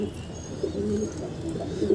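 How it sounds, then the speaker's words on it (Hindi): Pet pigeons kept at home coo steadily in soft, low, throaty calls, close by, over a continuous background murmur. "ऐसे कुछ से मेरे घर के कबूतर"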